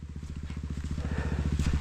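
A motorcycle engine runs at a steady idle, its rapid even thumping pulses close and clear, growing slightly louder toward the end.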